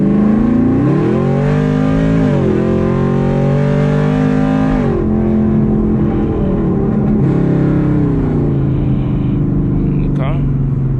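A Chevrolet Camaro SS engine pulls hard at wide-open throttle in third gear, loud and close, its revs climbing steadily with brief dips as it keeps accelerating.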